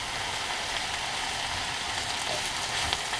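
A couple of pounds of onions sizzle steadily in a pan while cooking down for onion and mushroom soup, a constant close hiss and crackle with no talk.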